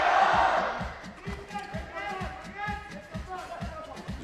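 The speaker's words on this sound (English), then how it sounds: "You can hear the crowd roar." Basketball crowd at a FIBA 3x3 U23 World Cup game, a loud roar at the start easing into steady chanting and rhythmic stomping or claps, with announcer-style voices speaking throughout.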